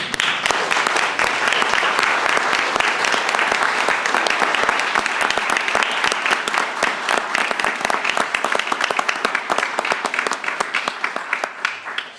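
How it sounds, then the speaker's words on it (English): An audience at a Board of Commissioners meeting gives sustained applause to honor a retiring community member, a dense, loud wash of many hands clapping that thins and fades slightly near the end. "let's give him a round of applause"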